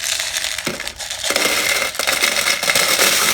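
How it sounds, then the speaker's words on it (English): Cut glass pieces pour onto a glue-coated plate in a steady, close crunching and clinking rush that keeps up for several seconds, with brief gaps between the pours. "I cut glass"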